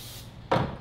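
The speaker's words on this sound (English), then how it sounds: "we're gonna spray the pot up." Cooking spray is sprayed into a pot in a home kitchen, a short hissy burst that arrives suddenly after a quiet stretch and is followed by the start of a second spray.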